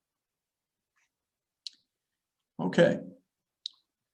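Two crisp, isolated mouse clicks on a Sonic job application website, close and clear against silence, with a short spoken word between them.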